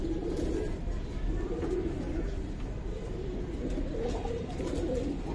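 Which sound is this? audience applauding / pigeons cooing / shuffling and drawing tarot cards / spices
pigeons cooing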